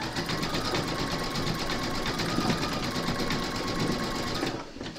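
An embroidery machine stitches an in-the-hoop penguin design in one dense, steady, rapid run close by. It slows and stops just before the end.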